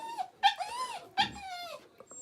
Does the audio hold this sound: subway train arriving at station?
no